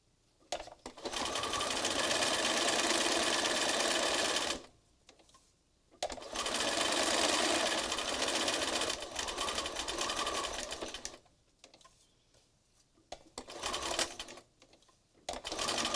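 Sewing machine stitching a mixed-media scrappy collage card in several directions: close, loud bursts of rapid mechanical whirring, three long runs separated by short pauses, then a few shorter bursts near the end, no voices.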